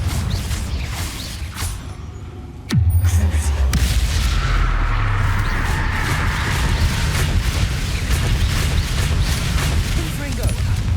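Confringo fire spell exploding in Hogwarts Legacy: a sudden heavy boom lands partway in, then a rumbling, crackling roar sustains loudly to the end over game ambience, with a voice speaking underneath.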